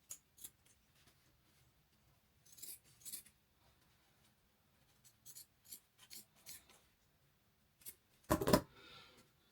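Scissors trimming the seam allowance on a girl's dress being sewn, heard as a few short, soft snipping bursts spaced apart in a quiet room, with one louder close cut near the end.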